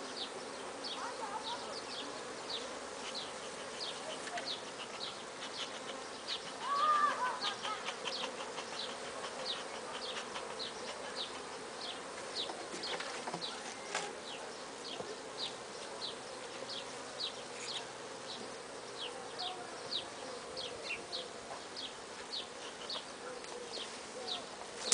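Honey bees hum steadily around a beehive recently given foundation wax, a continuous mid-level buzz with faint individual bees darting past, no voices present.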